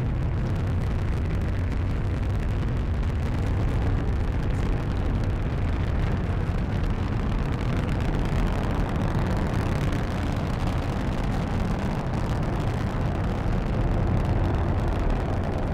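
Falcon 9 rocket engines roar at liftoff on a Jason ocean-height mission, a dense, steady, broadband rumble heard from a distance that holds unbroken for the whole stretch.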